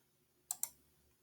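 Two quick, close computer mouse clicks about a tenth of a second apart, sharp and dry against a quiet room, made while setting up a static linear finite element analysis in SolidWorks.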